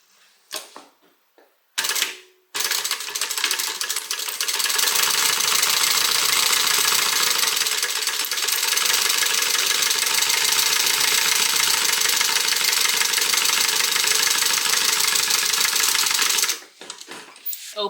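Sewing machine stitching a bag seam with right sides together: a few brief starts, then a long, steady, close mechanical whir of rapid stitching that runs about fourteen seconds before stopping abruptly.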